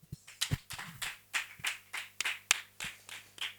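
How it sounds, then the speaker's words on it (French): A church congregation claps after a Sunday sermon, about a dozen separate sharp claps at an uneven, slowing rhythm, fairly close and sparse, with no talking over them. "On peut applaudir"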